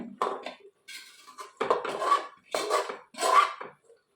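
A metal spoon scrapes and stirs squid masala in oil around a pan in several short bursts, close by and fairly loud, with brief pauses between strokes.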